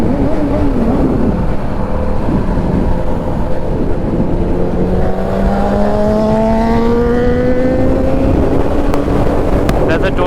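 A 2016 Yamaha R6 motorcycle engine revs up steadily, its pitch climbing over several seconds, loud and close with wind noise and outdoor rumble throughout.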